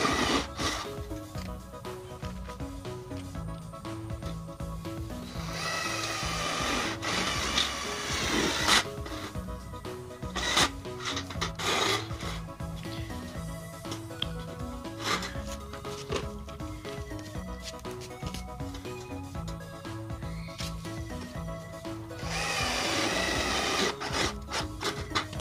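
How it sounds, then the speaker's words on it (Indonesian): Rattling mechanical whir of a power screwdriver driving bolts into a light steel door frame, repeated bursts close up over a busy background, no speech. "Setelah itu kita baut juga dengan sisi yang lainnya."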